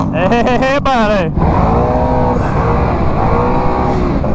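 Can-Am Outlander Gen 3 ATV with 34-inch tires at Busco Beach: a loud, close engine revs up and down in sharp sweeps, then settles into a steady running drone.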